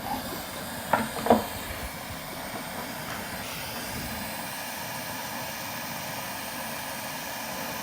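A jewelry soldering torch flame hisses steadily while a safety chain is attached in a repair, with a couple of brief clicks near the start and then an even, unbroken hiss.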